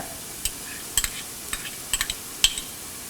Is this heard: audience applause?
no